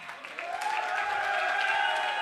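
Audience clapping at a motivational seminar swells from scattered claps into a dense, sustained wash of applause that stays loud to the end.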